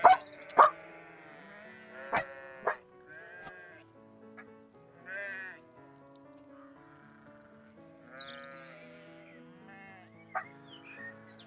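Dog barks and bleating animal sounds from the PS2 video game Babe, heard as short, sharp bursts over a soft, steady game music backing, near and moderately loud with no talking.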